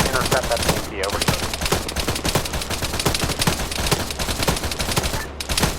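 Sustained automatic gunfire from a BTR armored vehicle during a military field training exercise, dense rapid bursts rattling nonstop at close range and loud, with faint radio chatter underneath.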